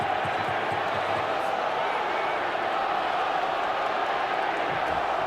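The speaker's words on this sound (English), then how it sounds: "A restless local crowd." A restless crowd murmurs and roars at an AFL qualifying final between Adelaide and Collingwood, a dense continuous stadium din with a commentator talking over it.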